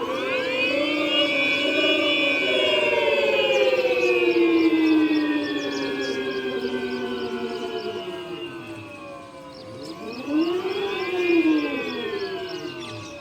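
An Ola S1 Pro 2023 electric scooter in eclipse mode gives off a synthetic siren-like whine that glides slowly downward, dips, then swells back up, steady and fairly loud with no talking.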